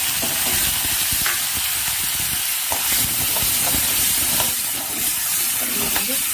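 Onion and tomato frying in oil in a kadai, a steady loud sizzle and hiss with scraping stir sounds throughout, no talking.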